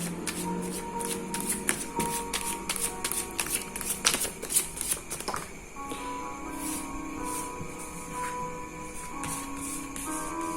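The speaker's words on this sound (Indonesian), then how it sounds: "Sambil kita kocok kartu" Tarot cards being shuffled by hand during a love reading, a busy run of rapid riffling and flicking bursts that eases into softer sliding and rustling near the close, close and fairly loud.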